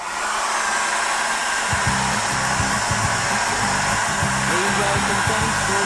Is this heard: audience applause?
no